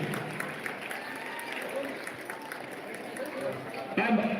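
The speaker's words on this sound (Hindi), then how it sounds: "जोरदार तालियां बजनी चाहिए अपने सर के लिए।" Scattered applause from a crowd of students at a Republic Day celebration, a dense patter of clapping that swells louder toward the end, with voices mixed in.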